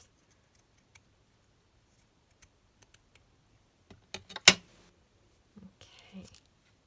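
Scissors snipping through a strip of paper ephemera for a collage scrapbook page, one sharp close cut with a few small rustles and taps of paper handling around it, quiet room.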